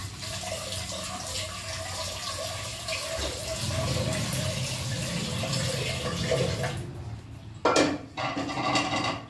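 Basmati rice being washed in water at a kitchen sink, with steady running tap water and sloshing, then a few sharp clatters near the end.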